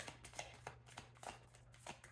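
A deck of cards being shuffled, with repeated short riffling bursts in a steady rhythm, close and clear against a low hum.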